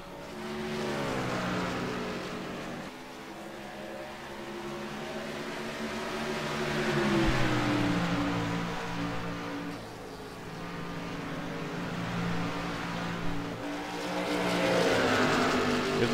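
Race cars in a PC racing video game scream around the track, steady engine whine swelling and fading as cars pass and shift, continuous and moderately loud with no voices.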